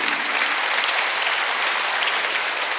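A Sunday worship congregation at a Korean church claps together in a brief, dense, steady burst of applause, with no talk over it.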